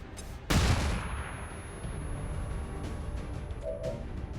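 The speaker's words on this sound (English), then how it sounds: "let's flashbang him and let's just see if it does anything to him" A flashbang grenade going off in XCOM 2, one loud sharp bang followed by a ringing, fading tail and low ambient rumble with faint clicks afterward.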